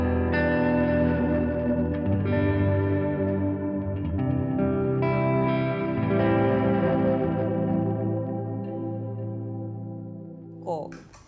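Electric guitar played through a Dispatch Master pedal set to long, heavy reverb and delay: sustained chords ring out in a wash of echo and shimmering trails that slowly decay, ending with a brief scrape of strings, no talk.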